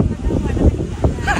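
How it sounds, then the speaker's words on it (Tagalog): Wind on Boracay buffets the microphone in low, gusty rumbles while a person talks close by. "Medyo mahangin dito guys."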